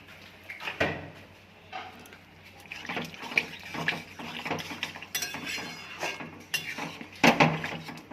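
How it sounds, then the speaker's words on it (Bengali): A little water splashes into a pan of jute-leaf vegetable curry, a faint pouring trickle broken by clinks of a metal utensil against the pan. "এবার একটু জল দিয়ে দেবো, অল্প করেই জল দেবো।"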